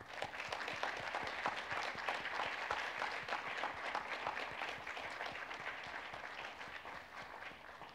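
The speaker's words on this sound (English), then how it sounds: "Let's give them our warmest round of applause" Graduation convocation audience applauding, a steady sustained round of clapping from a large crowd throughout, dense and even, heard a little distant in a hall.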